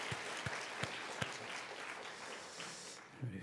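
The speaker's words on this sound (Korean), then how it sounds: "큰 박수로 한번 격려해 주십시오." Applause from a church congregation at a Friday late-night worship service, honoring district leaders. It is steady and moderately loud, with a few sharp claps standing out early, then thins and fades toward the end.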